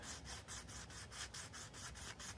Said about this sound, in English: So just a little bit of wet sandpaper. I'm barely putting pressure on it.